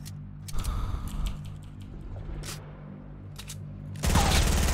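Bursts of rapid gunfire crackle in a video game over a steady mechanical hum, with a louder, denser volley erupting at the end.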